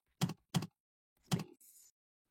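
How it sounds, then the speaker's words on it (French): Keys tapped on a keyboard while typing Korean words: three separate keystrokes with longish pauses between them, close and fairly quiet, followed by a brief soft higher rustle. "Donc je vais taper"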